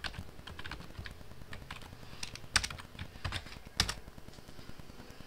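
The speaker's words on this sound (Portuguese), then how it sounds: "Então vou digitar aqui, ele não aparece ali" Someone types an administrator password on a computer keyboard in a Linux terminal, a quick run of soft, close key clicks with a couple of firmer taps standing out, against light room noise.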